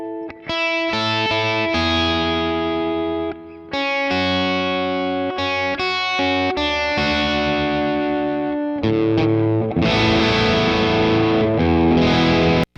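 Distorted electric guitar played through a Boss Katana amp's line out, sustained chords and ringing notes with chorus-like effect, loud and continuous with brief pauses between strums.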